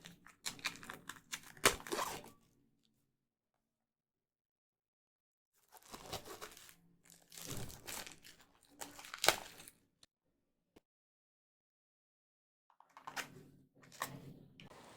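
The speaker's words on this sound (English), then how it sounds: "Let me peel this wrap and see what we have inside the box." Plastic shrink wrap is peeled and torn off the box of a Smitch Wi-Fi RGB 10W B22 smart bulb in three bursts of close crinkling and tearing, separated by silent pauses.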